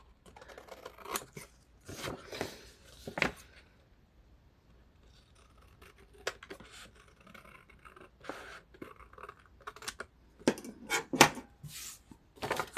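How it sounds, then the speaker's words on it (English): Scissors trim the folded edges of a paper envelope in a series of quiet, close snips and paper rustles, with irregular crisp cuts spread through the clip. "I'm going to go ahead and trim these edges up a little bit more"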